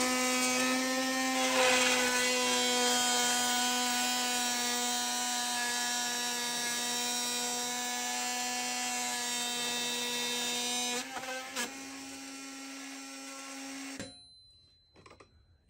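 A Bosch 12 volt brushless oscillating multi-tool cuts through wood, giving a loud, steady high-pitched buzzing whine that holds for about fourteen seconds, stutters briefly near the end, then stops abruptly.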